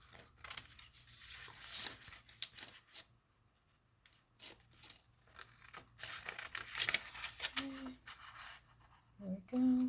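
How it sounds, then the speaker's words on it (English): Faint, intermittent snipping and paper rustling close by, with irregular crisp bursts and soft handling sounds between cuts. "And I'm going to cut it out."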